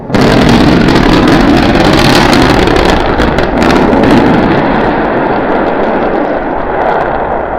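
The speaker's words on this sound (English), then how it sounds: "We're preparing to restart 2 engines, flip the vehicle vertical, then transition to 1 engine for the landing burn" SpaceX Starship engines restarting for the landing burn, a loud continuous roaring rumble with wind buffeting, steady at first and easing slightly toward the end.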